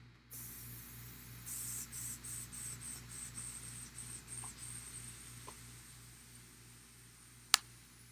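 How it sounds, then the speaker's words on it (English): Airbrush being cleaned out during miniature painting, a series of short hissing sprays and air bursts in a rhythmic run, then quieter hissing and a sharp click near the end, no talking. "Just clean my airbrush out."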